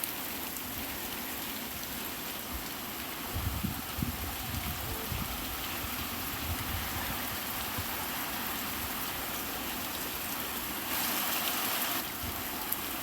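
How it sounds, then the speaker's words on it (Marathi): Steady heavy rain pours down outdoors with a constant broadband hiss, a dense wash of drops that intensifies briefly near the end, with no voices present. "एवढा जोरात पाऊस पडतो."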